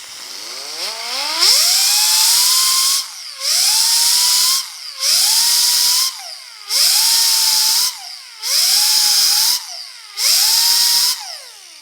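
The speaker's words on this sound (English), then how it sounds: "So we're just going to keep grinding until we get that smoothed out real nice." Grinder smoothing body filler in the door jamb of a 1950 Chevy truck: six loud, close bursts, each spinning up with a rising whine, then a steady high-pitched grind before cutting off in a brief pause.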